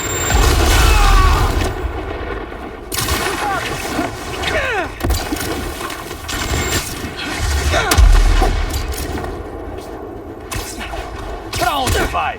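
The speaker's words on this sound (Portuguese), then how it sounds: "Vou atirar." Gunshots and heavy booms from Marvel's Spider-Man 2 ring out in repeated loud bursts over a dense, busy layer of game sound, with a few short sharper cracks along the way.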